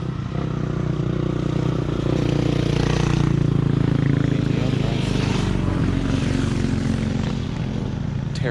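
A Beta dirt bike engine drones steadily and buzzes past at moderate distance on a backcountry trail, rising and falling slightly, with faint voices underneath.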